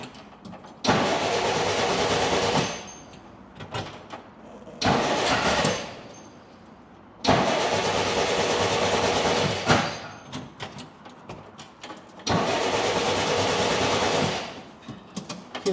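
A 1948 Jeep engine cranks in four long bursts of several seconds each, loud and close, with short pauses between attempts as it struggles to start with the choke.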